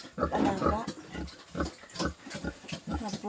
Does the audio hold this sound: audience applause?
no